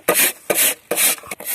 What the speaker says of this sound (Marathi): तर किसणीच्या साहाय्याने आम्ही गुळ बारीक किसून घेणार आहोत।